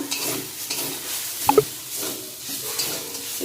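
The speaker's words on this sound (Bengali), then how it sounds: "আর একটুখানি কিছুক্ষণ নেড়ে চেড়ে আমি কলমি শাকটা নামিয়ে" Water spinach greens with coconut and a little sugar sizzle in a pan while being stirred, with a couple of sharp clinks of a utensil midway; close and moderately loud.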